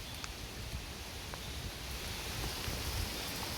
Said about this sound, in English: The rain has slowed down a lot